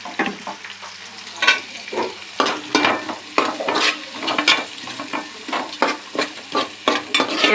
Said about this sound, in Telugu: ఇవన్నీ బ్రౌన్ కలర్ వచ్చే వరకు వేపుకుందాం.